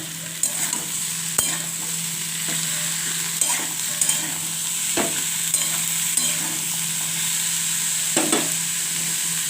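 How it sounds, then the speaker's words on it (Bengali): Spiced food fries in a pan with a steady sizzling hiss, punctuated by several sharp scrapes and stirring clacks at irregular intervals, close and clear with no speech. "অল্প অল্প করে দিয়ে দিয়ে ভেজে ভেজে তুলে নিতে হবে"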